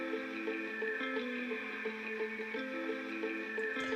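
In a drum and bass track, a guitar part is layered over a basic drum and bass sample. A dense, continuous bed of bright sustained tones carries a steady rhythmic pulse, with no voices.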